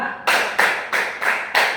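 Five sharp hand claps in an even rhythm, close and loud, counted out in a classroom with brief pauses between each clap.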